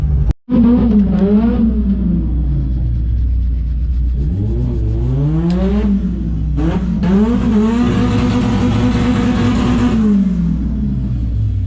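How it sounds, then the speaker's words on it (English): A race car engine at Crail Raceway revs loudly and repeatedly close by, its pitch rising and falling in long sweeps over a constant deep rumble, with one sharp bang near the start. "that car next to me making hella noise"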